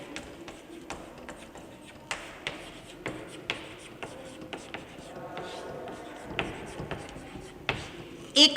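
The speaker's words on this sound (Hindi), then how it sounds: "क्वेश्चन लिखते हैं।" A question written out by hand with pen on paper: a close, steady run of short scratchy strokes and taps in an uneven rhythm, with faint rustling of the page and no clear talking.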